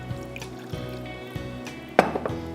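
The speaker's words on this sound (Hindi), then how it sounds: "1/4 कप पानी डाल दें।" Water is poured into a pan of spices for aloo anardana karahi, a short splashing burst cutting in over a quiet kitchen background.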